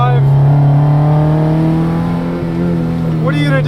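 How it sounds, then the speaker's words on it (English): A tiny low-horsepower rear-wheel-drive car's engine holding a steady, loud droning note close by, with sustained harmonics and no talking over it. "Low horsepower, big sound. Tiny car, rear-wheel drive."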